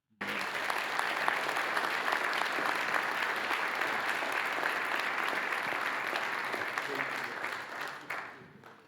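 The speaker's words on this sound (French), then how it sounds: "je vous propose de les applaudir une nouvelle fois" An audience applauds at a televised ceremony, a full round of clapping that begins abruptly, holds steady and fairly loud for several seconds, then fades out near the end.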